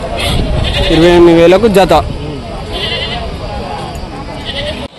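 Goats and sheep bleat at a rural animal market, loud close calls over crowd chatter, with people talking and haggling throughout.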